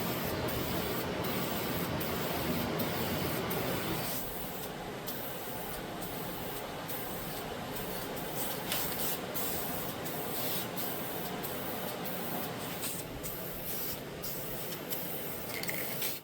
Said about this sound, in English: use the one that's already prepped in the rattle can, and we'll come through and start spraying the bottom of this